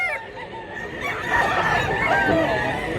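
A four-year-old rooster crows up close at a poultry market in Mantalungon, Cebu: one loud, sustained crow that rises and holds before trailing off.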